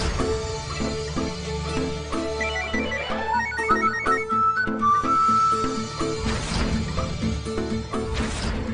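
A phone ringtone played over a speakerphone, a loud electronic melodic tune of repeating tones that grows busier and fuller, with no talking over it.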